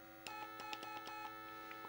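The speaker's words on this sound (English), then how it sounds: "Okay, here's the sad horn." A thin, buzzy electronic horn tone drones steadily under a faint background hum, with a few clicks, sounding like a retro game sound effect.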